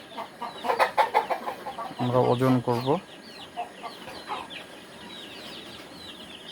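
Newly hatched Fayoumi chicks from an incubator batch chirp in quick, high, repeated peeps throughout, close by, while people talk briefly over them.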